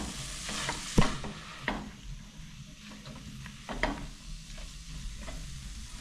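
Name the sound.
stirring samosa filling in a pan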